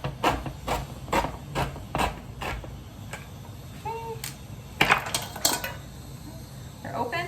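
Canned chickpeas are drained in a strainer and tipped into a bowl, giving a run of rhythmic metallic taps and clinks, a brief ringing tone, then a rattling cluster of knocks and clatters close by, with no talking.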